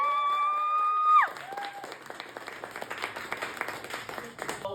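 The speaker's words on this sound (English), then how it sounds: "give a round of applause to yourself" An audience at an artRave dance-and-draw event breaks into scattered clapping and light cheers after a sustained, held tone at the start, with the applause continuing unevenly to the end.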